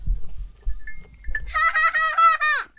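A lamb and sheep on a village farm bleat loudly and close, a wavering, quavering call lasting over a second after quiet rustling and faint background sounds.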